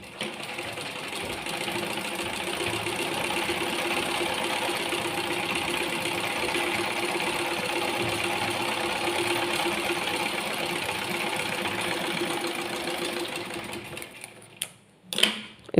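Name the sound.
sewing machine sewing a top stitch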